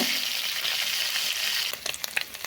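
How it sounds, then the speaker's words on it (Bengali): Khoira fish frying in hot mustard oil, giving a dense continuous sizzle up close that thins near the end into scattered crackles and spits. "তেল গরম হয়ে যেতে মাছগুলো আস্তে আস্তে ছেড়ে দিলাম। খুব একটা বেশি মাছগুলো ভাজবো না, হালকা করে মাছগুলো ভেজে নেব।"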